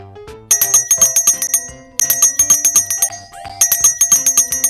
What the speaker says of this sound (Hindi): हाँ, वो घंटी की आवाज है।